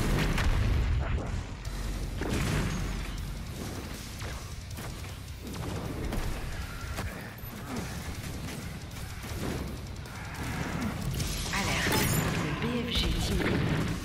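The BFG 10000 fires repeatedly in the Doom Eternal video game, deep booming blasts rolling one after another over a dense, continuous battle din.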